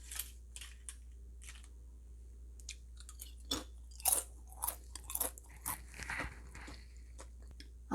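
Crisp, crunchy bites and chewing of a crunchy keto snack of kelp and seaweed, several sharp crunches in irregular bursts, close up against a quiet, low hum.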